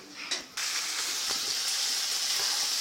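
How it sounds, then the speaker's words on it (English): Chicken for chop suey fries in a pan. A brief clatter comes first, then a continuous bright sizzle and hiss runs steadily, close by, with no one speaking. "I'm just frying the chicken now."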